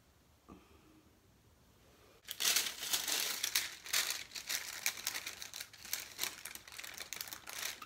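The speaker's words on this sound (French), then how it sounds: "Allez, mon papier sulfurisé." Parchment paper crinkles and crumples loudly and close up for several seconds while it is handled beside a mould of freshly poured solid shampoo, after a quiet start.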